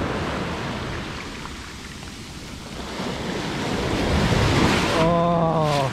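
Surf rolling in at Tunamaya Beach resort in Desaru, a broad wash of waves and wind swelling louder toward the end, with a brief tonal whine near the close.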